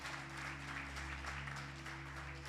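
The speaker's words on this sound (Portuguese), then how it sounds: "Dá uma salva de palmas para o Senhor então," A church congregation at a Sunday family service claps together in steady, sustained applause, heard faint and somewhat distant over a low background hum, with no voices standing out.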